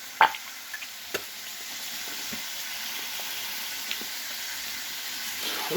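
Food frying in a pan for a full English breakfast, a faint even sizzle and hiss with a few sharp clicks and pops near the start, quiet and steady, no talking.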